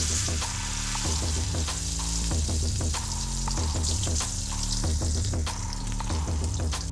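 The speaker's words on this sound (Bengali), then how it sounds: "তেলটা গরম হয়ে গেছে বন্ধুরা, এবার আমি একে একে মাছটা ছেড়ে দেবো তেলের মধ্যে" Pieces of catla fish fry in hot oil with a continuous crackling sizzle, broken by intermittent clinks and stirring noises, close and steady, over a faint tonal background.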